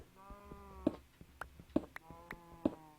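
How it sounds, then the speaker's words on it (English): Cows mooing in the video game Minecraft, several short lowing calls repeating at irregular intervals over a faint steady background drone, moderately loud and close. "I'm hearing the cows, which are above me"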